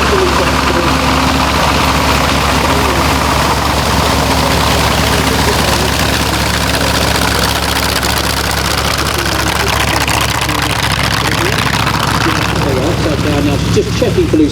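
The engine of a Hawker Sea Fury aircraft idles, a loud, steady, broadband rumble with low throb that runs unbroken throughout, with a voice speaking over it.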